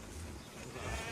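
Sheep bleating at close range, with a brief call rising over a steady rumbling background in a toy train setting.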